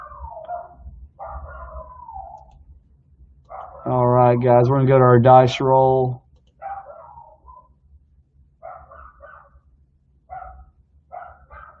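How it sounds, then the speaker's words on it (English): A small, yippy dog barks upstairs in a quick two-second burst of high, sharp yaps, heard between stretches of someone talking during a sports card break. "You're gonna hear our dog upstairs."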